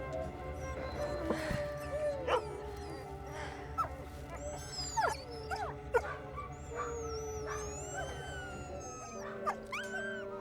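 A dog whimpering, yipping and giving short howl-like whines indoors, a series of high, wavering cries scattered over several seconds, close and moderately loud.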